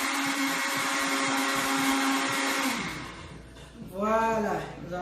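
A blender whirs loudly and steadily while mixing aloe vera juice, then cuts out abruptly; a voice speaks briefly over the fading motor afterward.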